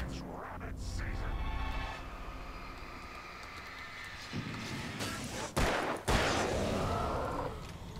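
Gunfire in the Alan Wake video game bursts out as a couple of sharp, loud cracks near the end, over a rumbling, noisy game backdrop.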